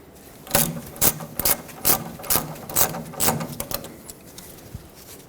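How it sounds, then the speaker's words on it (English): 24mm wrench or socket ratcheting off a tight pitman arm mounting nut on a Ford F-350, a run of about a dozen sharp metallic ratchet clicks in quick, uneven bursts, close up. "use a 24mm wrench or socket and remove that mounting nut"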